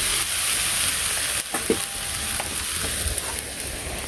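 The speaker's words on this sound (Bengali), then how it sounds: "এখন মাছগুলো দিয়ে দিব।" Fish are dropped into a pan of leafy-green chorchori, giving a steady, hissing sizzle close by with a few brief stirring knocks and no talk.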